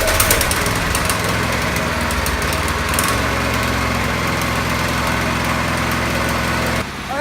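The small engine of a homemade desk kart runs continuously during its break-in, a loud, buzzy, high-pitched drone with a rattling knock, steady throughout before briefly dipping at the very end.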